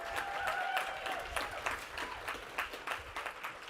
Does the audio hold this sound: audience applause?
yes